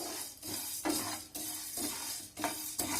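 Cumin and coriander seeds dry-roast in a pan for rasam powder, with a soft continuous crackle and repeated scraping stirs every half second or so, close but quiet, no voices.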